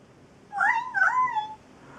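A toddler imitates a cat, giving a single drawn-out two-part meow, clear and close against a quiet background.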